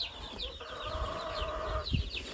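Hens in a rain-flooded, muddy coop clucking in short bursts with a few brighter squawks, over a steady background hum, fairly close.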